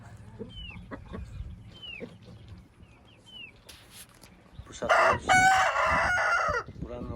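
An Aseel rooster crows loudly and close for about two seconds among a flock of chickens, preceded by scattered soft clucks and chirps from the hens and chicks.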